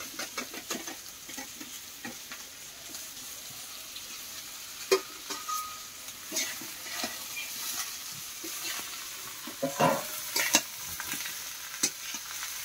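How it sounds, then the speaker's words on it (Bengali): Mixed vegetables tossed into a hot pan and stir-fried, quiet sizzling with scattered clicks and scrapes of stirring throughout, no voices. "এবার সবজিগুলো সব দিয়ে দিচ্ছি।"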